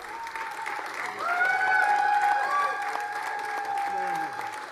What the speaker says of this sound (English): waving to the crowds, enjoying the applause